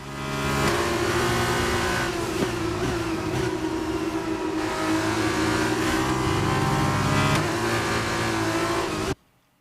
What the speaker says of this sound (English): It's so easy to get that wheel spin